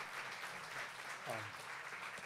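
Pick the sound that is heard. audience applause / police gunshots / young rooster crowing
audience applause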